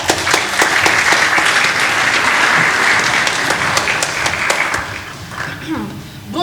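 Theatre audience breaks into loud, sustained applause with dense clapping and a few voices mixed in, easing off toward the end.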